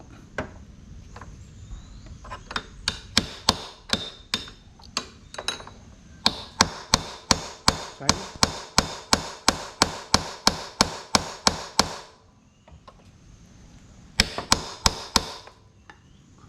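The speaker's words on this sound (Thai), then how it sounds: "ค่อย ขันให้มันแน่นครับใช้วิธีตอก" Hammer blows strike the loose steering neck of a Honda Wave 125 motorcycle in a quick, steady run of sharp, close knocks. A brief pause breaks the rhythm before a final short burst of strikes.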